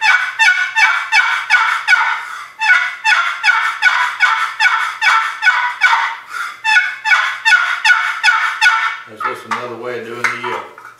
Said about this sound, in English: Way of doing the yelp.